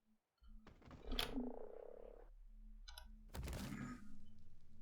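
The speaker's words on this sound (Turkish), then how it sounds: "Bildiğin uçan kurbağa abi" A Beelzebufo frog, the flying frog creature in the video game Ark Survival, croaks in two loud, throaty bursts separated by a brief quieter stretch, with clicky game sounds between them.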